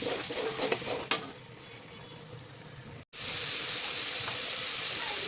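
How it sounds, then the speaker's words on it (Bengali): Ground cumin, coriander, turmeric and chili masala stir-fry in a pan with a steady hiss and sizzle, one clink of the spoon early on, then a continuous even frying hiss after a brief break. "মানে এটাকে মশলাটাকে ভালো করে কষাবো।"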